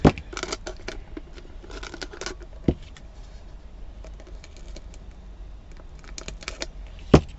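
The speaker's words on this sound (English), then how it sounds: "Would help if my scissors weren't full of glue." Scissors gummed with glue snip through craft material in a close, quiet workspace, with clusters of quick crisp cuts and a few sharper clicks scattered across the stretch.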